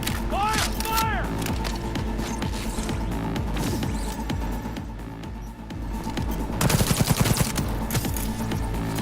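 Gunfire in Cyberpunk, heard as dense, rapid bursts of automatic shots layered with game music and effects. The shooting rises into a loud rattling volley near the end, with shouted voices throughout.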